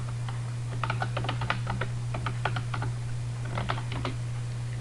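Keys clatter on a computer keyboard in quick bursts with short pauses, fairly close over a steady low electrical hum, with no voices.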